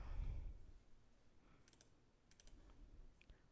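A computer mouse clicks during a software demonstration: a few faint, sharp clicks come one at a time over quiet background hum.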